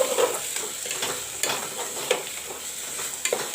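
Masala with diced tomatoes fries in a pan as a steady, close sizzle, broken by periodic scraping strokes of stirring, with no voices.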